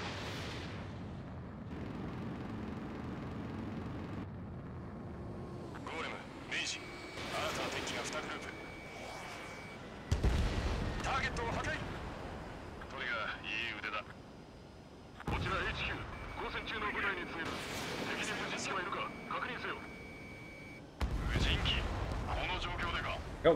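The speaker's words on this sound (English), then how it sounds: "I'm going to shoot them." Gunfire and booming bursts from aircraft combat in the video game Ace Combat 7, loud rumbling blasts and rapid shots layered over game noise, with a voice talking through parts of it.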